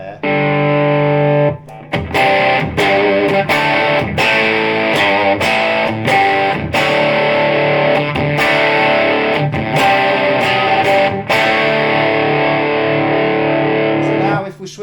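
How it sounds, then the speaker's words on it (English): Electric guitar through a single-ended Hollywood Film Company Amp 1 with the mega boost engaged, giving a grungy, saturated distortion; loud chords strummed in repeated bursts with short gaps, sustaining between strikes. "It's got a bit more of a grungier distortion there."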